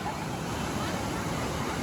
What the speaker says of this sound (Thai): มันเป็นน้ำตกที่ใหญ่มากนะครับ